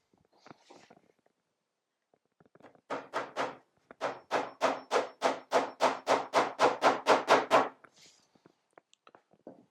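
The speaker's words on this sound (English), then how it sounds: "Now the last 4 nails are going to go in the front, and there's 2 ways of doing this. You can hammer it in like this." A hammer drives nails into a wooden WBC beehive floor, starting with a few light taps, then a run of about fourteen sharp, evenly spaced blows that build in force before stopping, close up and without speech.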